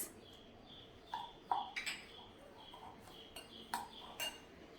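Red chilli pickle masala is mixed with lemon juice in a bowl. A spoon gives scattered light clinks and scrapes against the dish over a faint background hum, with no speech.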